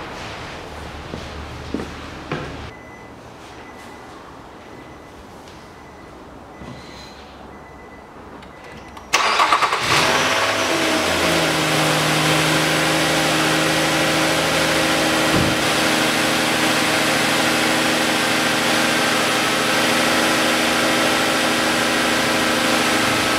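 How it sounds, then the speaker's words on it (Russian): A 2010 Nissan Murano Z51 engine cranks and catches after quiet shop ambience, then settles into a steady, even idle that runs on for the rest of the time, close and continuous. "Ну а теперь запускаю двигатель."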